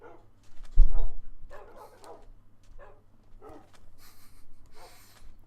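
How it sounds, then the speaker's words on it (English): Several dogs from a pack in the video game Crash Landing 9 bark in short, scattered bursts, one loud close bark followed by fainter yips and barks spread across the scene. "Charge my dog army."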